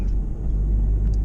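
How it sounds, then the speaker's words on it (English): Steady low whirring drone of a Ford Mondeo towing something, a continuous near rumble from the car's drivetrain heard from inside the cabin, constant in level throughout. "that's just a special noise that the Mondeo does when you're towing something"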